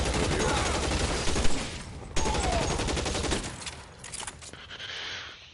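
Tommy gun bursts rattle out in the L.A. Noire video game, loud rapid automatic fire in long sustained volleys that break off briefly, then resume and trail away into sparser shots and game sounds.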